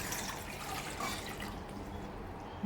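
Lukewarm water pours steadily into a blender, a continuous close splashing trickle with no voices.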